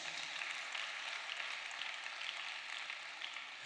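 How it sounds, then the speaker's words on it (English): Sustained applause from an audience at a book launch and media anniversary celebration, a dense continuous wash of clapping hands without pause, steady and fairly loud throughout. "a round of applause before I introduce him"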